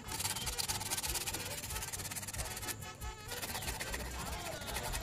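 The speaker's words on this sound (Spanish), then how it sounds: "con una lija también en forma de canuto procedemos a frotar." Tube-shaped sandpaper rubs back and forth in quick, steady strokes against a cane quena flute tube, a continuous close scratching with a brief pause near the middle.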